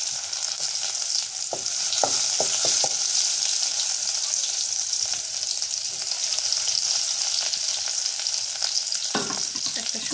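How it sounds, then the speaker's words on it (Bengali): Black cumin and whole cumin seeds fry in hot oil as a tempering for dal, making a continuous crackling sizzle with a cluster of sharp spoon clicks early on and another near the end. "কালো জিরা আর আস্ত জিরা, এটা আগে একটু ভেজে নিই।"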